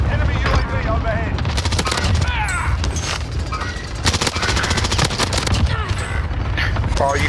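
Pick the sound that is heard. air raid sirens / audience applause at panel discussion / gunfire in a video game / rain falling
gunfire in a video game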